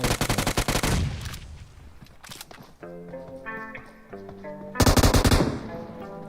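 Automatic gunfire rattles in rapid bursts during a competitive online shooter match, loud and close, with a pause of tonal game sounds between two heavy volleys.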